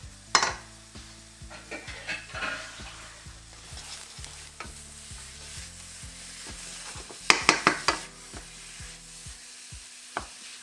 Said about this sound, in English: Now I'm gonna chuck in this beef.